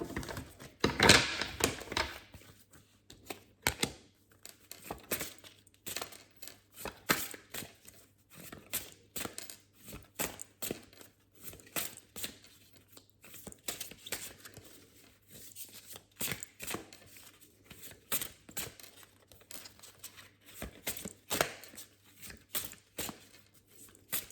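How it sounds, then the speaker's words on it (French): Tarot cards are shuffled by hand in a quiet room, a steady run of soft, close riffling and slapping bursts with brief pauses, a louder flurry at the start, and no talking. "Je les mélange comme ça parce qu'en fait, ces cartes-là, elles ont un endroit et un envers."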